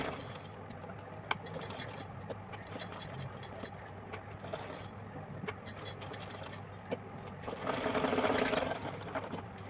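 Sewing machine stitching a small fancy dress for a Laddu Gopal figure, a low continuous mechanical whir with faint clicks that swells louder near the end, close but muted, with no talk.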